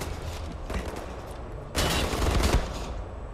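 Rapid automatic gunfire crackles through a firefight in Wolfenstein: The New Order, a dense burst of shots that swells louder midway before easing back.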